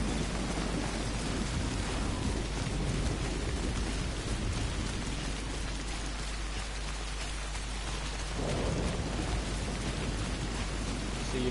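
Heavy rain hisses steadily in the video game Death Stranding, with deep rolling thunder rumbling underneath, swelling and easing and then returning stronger.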